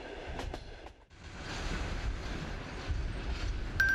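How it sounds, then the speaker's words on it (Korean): A Trans-Siberian train runs on its rails between Vladivostok and Khabarovsk, a steady rumbling roll with faint rhythmic clatter and a brief thinning near the start before the noise swells back. "열차는 블라디보스토크에서 하바롭스크를 지나"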